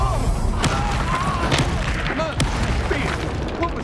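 Bombarda spell explosions in Hogwarts Legacy, several short booms and crashes going off through game combat noise with a few brief cries.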